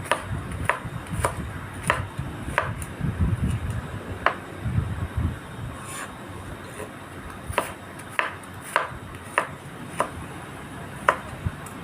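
Steady chopping of vegetables on a board, sharp knife strikes at an irregular, unhurried pace over faint background hum.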